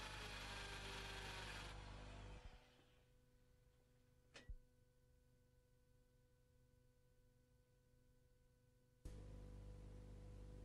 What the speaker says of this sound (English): Drill and plug.